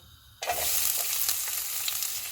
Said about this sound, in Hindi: ऑयल गर्म हो गया, इसमें प्याज डालेंगे।